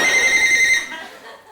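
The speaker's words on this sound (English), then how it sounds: "That's a phone." A telephone ring used as a buzzer sound: a bright, electronic trilling tone rings steadily for under a second, then cuts off and fades, close and clear, with no voices over it.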